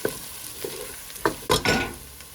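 Aubergine and potato pieces frying in a pan for a Punjabi aloo baingan, with a soft sizzle and a few close, louder scrapes and rustles of stirring bunched toward the end.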